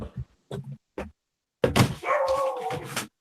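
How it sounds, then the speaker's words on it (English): A dog gives three short, sharp barks, then after a brief pause lets out a longer, louder run of yelping and whining. The dog is close and loud, and no one talks over it. "It's the dog."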